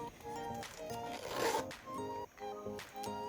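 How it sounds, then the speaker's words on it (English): The zipper of a Louis Vuitton bag is drawn along in short, quiet scratchy pulls with small pauses between them, heard up close in a calm room. "Check the zipper."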